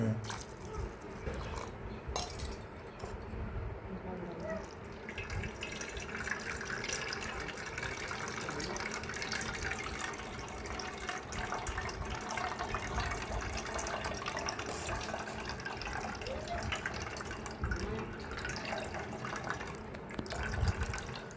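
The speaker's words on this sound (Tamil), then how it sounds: "அவங்க தண்ணி ஊற்றி வடிக்கிற பாரு இல்லை" Water pours and splashes in a steady, continuous stream for a long stretch, like liquid being run through a strainer into a container, while straining amla (Indian gooseberry) juice.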